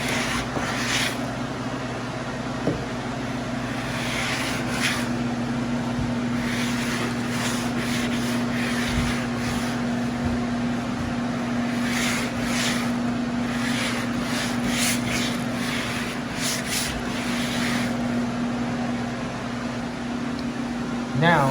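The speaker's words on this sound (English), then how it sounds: "sometimes we like to expedite by putting the blower right up to the job" An air blower runs right up against freshly hung wallpaper to dry it, giving off a steady, loud whooshing drone with a constant low hum that continues for the whole stretch, with faint rubbing sounds and some talk mixed in.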